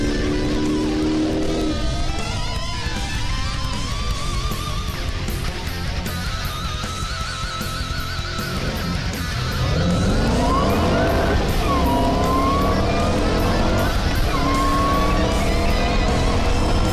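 A Shelby Super Snake and a Challenger run a 0 to 100 to 0 mph test, engines roaring loudly and continuously as they climb through the gears, with rising pitch sweeps toward the end as they accelerate and brake.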